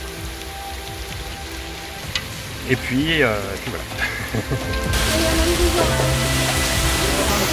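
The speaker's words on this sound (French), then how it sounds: "il y a grosse pluie qui est arrivée" Heavy rain in Zanzibar, starting as a steady patter under a brief spoken voice and animal-like calls, then swelling abruptly into a loud, dense downpour hiss.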